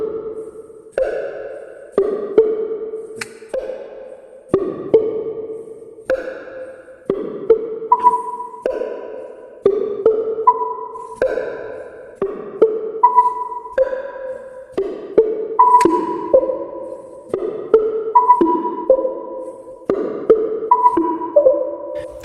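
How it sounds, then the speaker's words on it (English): A Yamaha Tenori-on grid sequencer synth plays soft, ambient bell-like pings in a repeating rhythmic pattern. Each note rings with a short echo, the melody steps between pitches, and no one speaks. "The sounds on the Tenori-on are generally quite soft and ambient in nature."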